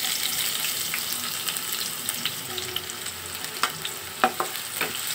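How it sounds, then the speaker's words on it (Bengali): Chopped onion frying in hot oil in a frying pan, a steady close sizzle throughout with a few sharper crackles and spatters toward the end; no voices. "এবার আমি দিয়ে দিব কেটে রাখা পেঁয়াজ কুচি।"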